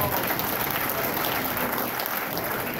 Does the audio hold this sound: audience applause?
yes